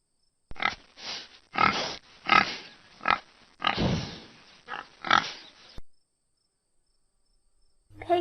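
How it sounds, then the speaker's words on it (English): A pig grunts repeatedly, with about eight short, close, moderately loud grunts in an irregular rhythm, followed by near silence. "pig"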